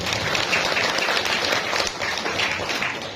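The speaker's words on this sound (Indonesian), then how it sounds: "Tepuk tangan untuk ibu sekalian" A crowd at an East Java community event applauds a women's gymnastics group, the clapping dense and steady throughout at close range.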